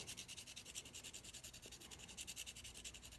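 A drawing pencil is rubbed against an abrasive surface to sharpen it to a point, making quiet, close, rhythmic scraping strokes of even pace.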